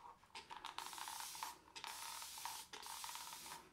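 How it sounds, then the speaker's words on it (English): Water sprayed onto a face before shaving: several short, quiet hissing spritzes from a spray bottle, separated by brief pauses. "So let's get some spray on the face"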